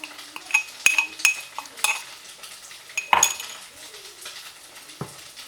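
Tamarind, chili and garlic being stirred together in a pot for pempek sauce, with scattered utensil clinks and scrapes at an uneven rhythm, close and fairly quiet.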